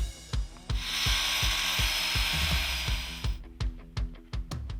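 Power saw cutting a wooden decking board to fit snugly around a post, a sustained buzzing whine over a fast rhythmic chatter of clicks, then stopping into a handful of sharp, separate knocks, close up with no talking.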